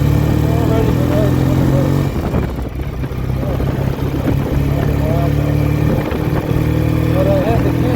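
A 1967 BSA A65 motorcycle on a test ride, its engine droning loud and steady with a slight dip in pitch partway through, heavy rushing noise around it and faint voices mixed in.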